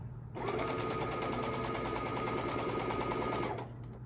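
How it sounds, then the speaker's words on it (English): A sewing machine stitches quilt binding along a marked diagonal line in one continuous fast run, a steady dense mechanical whir that starts abruptly and stops after about three seconds, close and clear with no talking. "make sure I'm sewing straight along that diagonal"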